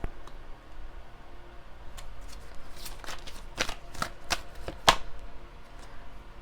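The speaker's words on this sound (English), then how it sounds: "Let me pull some of these new Enchanted Map Oracle cards" Enchanted Map Oracle cards are shuffled close up in a quiet room, giving crisp riffling and snapping clicks in irregular bursts.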